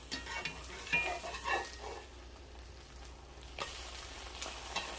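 Spinach frying in a pan for a breakfast of eggs and smoked fish, a soft, steady sizzle heard at close range, broken by occasional light scrapes and stirring knocks.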